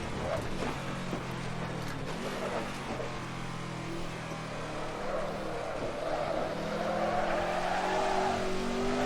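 Race car sliding with tires skidding in the Assetto Corsa driving game, engine whine shifting in pitch over drawn-out screeching tire squeal.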